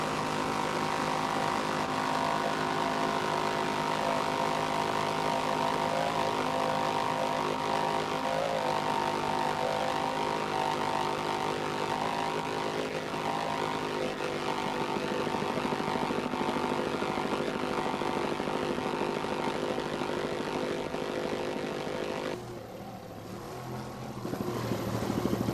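Racing powerboat engines roar loud and steady at speed on home waters during an offshore powerboat race on the bay, a sustained dense drone that dips briefly near the end before surging back.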